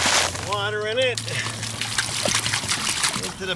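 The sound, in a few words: water poured into repair mortar mix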